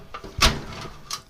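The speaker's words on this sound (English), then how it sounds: "when I pull that, it releases the catch" A metal toolbox drawer is released from its catch and slid out, giving a short metallic clunk and sliding scrape, followed by a fainter rattle a moment later.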